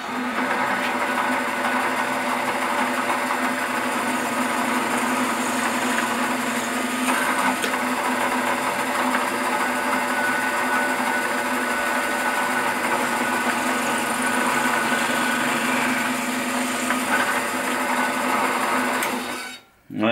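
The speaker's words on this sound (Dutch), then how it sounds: "we gaan eerst alle gaten voorboren" A power drill whines steadily for about twenty seconds while drilling small pilot holes, a constant high-pitched motor drone that cuts off abruptly at the end.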